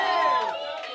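A crowd at a live show cheers and whoops in a loud, continuous wash of voices with high shouts rising through it.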